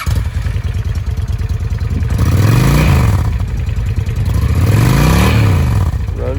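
Used 2004 Honda Shadow Aero 750 V-twin cruiser motorcycle idling with a loud, close, lumpy beat, then revved twice, each swell rising and falling back to idle.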